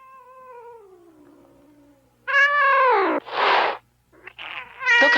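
A mother cat defending her kittens from a dog, giving a long descending meow followed by loud, harsh yowling and hissing bursts at close range.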